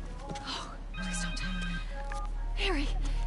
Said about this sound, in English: What, you gonna stop running to answer the phone?